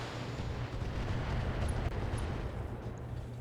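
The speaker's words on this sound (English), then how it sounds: "That damn artillery." Heavy artillery fire in a mech combat video game, a continuous low rumbling barrage of booming blasts that stays loud and dense throughout, with no talk over it.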